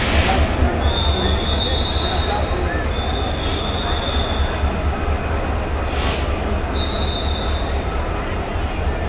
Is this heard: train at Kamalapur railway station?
yes